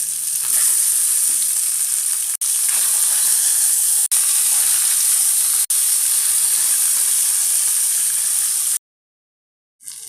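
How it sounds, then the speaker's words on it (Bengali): Parshe fish frying in hot oil make a loud, close, constant hiss and sizzle, briefly cut by a few dropouts before going silent near the end, then returning faintly. "তেল গরম হয়ে গেছে এখন আমি মাছগুলো ছেড়ে দেবো মাছগুলো আমি লাল লাল করে ভেজে নেব"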